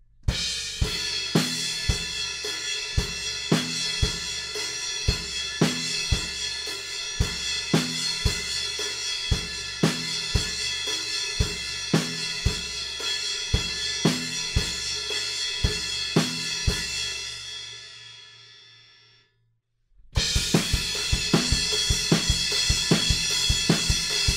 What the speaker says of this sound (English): we're up on the crash cymbal and mostly we're playing off beats with the kick drum